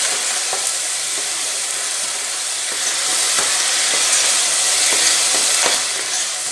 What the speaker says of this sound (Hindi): हल्की सी प्याज फ्राई हो जाएगी